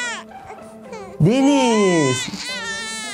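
A Baby Born baby doll cries with a loud, rising-and-falling wail after a short stretch of a voice; someone speaks again near the end.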